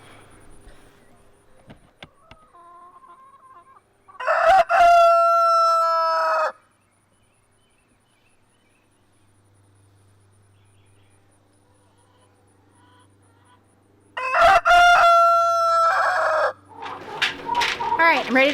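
Backyard chickens clucking with a protective rooster crowing twice, each crow loud and close, separated by quiet stretches of soft clucks and faint background hum.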